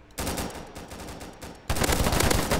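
Gunfire from a free first-person shooter in a King of the Hill match: loud automatic bursts and rapid shots crackle almost continuously, swelling into a heavier volley near the end.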